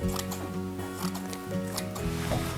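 Scissors cut through a large piece of tulle in a run of quick, steady snips, close by and moderately loud over continuous background music.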